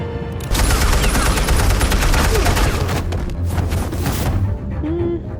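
Gunfire in the Batman Telltale Series video game comes as a loud, dense volley of rapid shots that runs almost without break for several seconds, with no talk over it.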